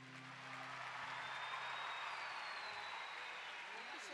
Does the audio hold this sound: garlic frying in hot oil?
no